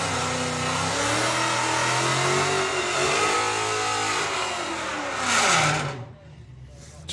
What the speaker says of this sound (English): Big-ish burnout with the Mustang